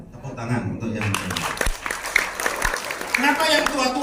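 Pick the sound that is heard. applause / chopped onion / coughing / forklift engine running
applause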